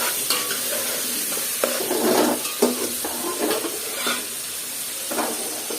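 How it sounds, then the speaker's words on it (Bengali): Chopped bottle gourd with shrimp frying in a pan, a constant hissing sizzle broken by repeated scraping and clattering stirs of a spatula against the pan, close and clear, with no voices. "আর দিয়ে দিলাম লাউ। আর নেড়ে চেড়ে দিলাম।"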